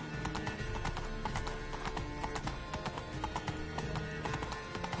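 Roach, a horse in The Witcher 3: Blood and Wine, gallops steadily in the game, with continuous rapid hoofbeats over a dense bed of background game sound and an occasional whinny.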